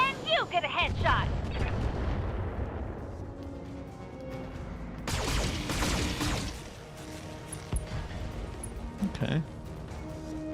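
Weapon fire from mechs in the BattleTech video game: scattered heavy blasts and crashes, with a loud burst around the middle, under ongoing talk.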